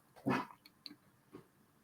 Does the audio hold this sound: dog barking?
yes